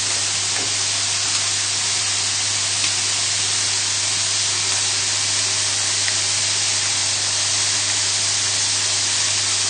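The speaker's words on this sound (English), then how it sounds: "we're going to drop in the tagliatelle." Steady broadband hiss and bubbling of a pot of boiling water as tagliatelle is dropped in, constant and fairly loud throughout, with a low steady hum beneath.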